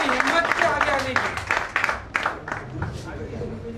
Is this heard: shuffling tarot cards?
no